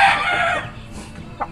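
A rooster's crow, loud and near, fades out over about half a second, followed by a faint quiet stretch and one short squawk.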